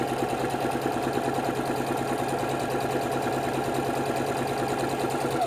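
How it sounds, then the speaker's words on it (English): A sewing machine stitches fabric for a snowball quilt block, giving a fast, even mechanical whir with rapid needle pulses, steady and close throughout, with no talking. "So I'm going to line myself up with my measuring right on the sewing machine, and I'm going to sew a 1/2 inch away from that line."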